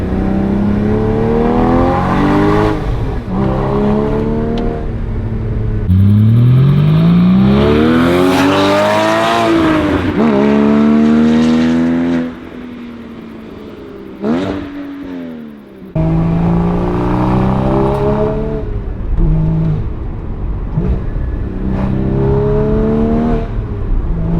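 Porsche Cayman GT4 engine revving hard on twisty roads, with rising and falling harmonic sweeps as it climbs through gears, a sharp throttle blip, and a brief lull before pulling loudly again, close and continuous.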